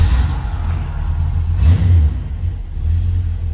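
A 1968 Dodge Charger R/T V8 idles loudly right after a cold start, a deep steady rumble with a brief rev swell partway through, close and continuous with no voices.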